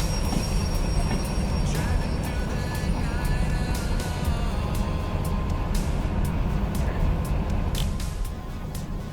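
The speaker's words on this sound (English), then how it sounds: "So now we're going to pull a passenger job with entirely too much locomotive" A heavily overpowered locomotive of about 4,000 horsepower hauling a passenger train in Derail Valley, a loud continuous engine roar and rumbling wheels with repeated clicks of rail joints, steady throughout.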